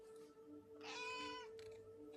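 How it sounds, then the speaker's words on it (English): A cat gives one clear, drawn-out meow at close range, heard alone over a steady electrical hum in a quiet indoor room. "a cat has appeared."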